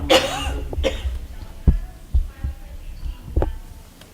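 A person with a cold coughs at a school board meeting: one sharp cough, then several softer, hoarse throat bursts spaced over a few seconds in a quiet room.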